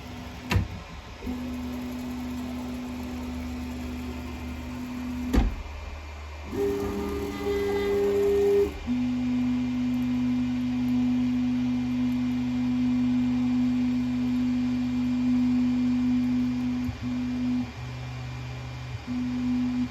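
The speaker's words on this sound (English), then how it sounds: "we can just quickly home the printer so you can hear it as it drives itself" A Sovol SV06 Plus 3D printer homes itself, stepper motors whining in steady sustained tones broken by short clicks and pauses, close and moderately quiet with no talking.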